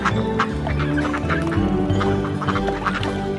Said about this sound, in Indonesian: Ibunya berkata, kuek, kuek, kuek.